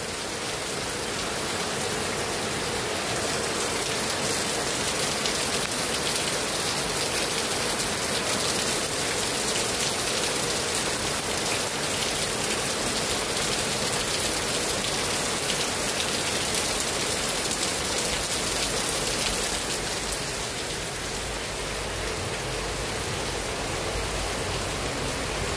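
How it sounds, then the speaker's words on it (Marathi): Heavy rain pours down at a poultry farm in Madhevadgaon, a dense, steady roar of drumming water that continues unbroken and loud throughout, with no voices. "तुफान पाऊस चालू आहे, तुफान."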